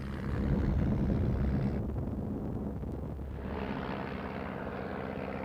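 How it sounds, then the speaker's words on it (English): Propeller aeroplanes fly overhead at an airshow. A loud, sustained engine drone shifts in tone as the aircraft pass, mixed with wind buffeting on the microphone. "They're trying to pop these balloons with their aeroplanes."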